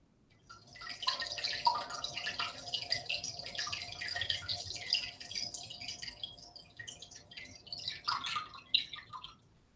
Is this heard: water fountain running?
yes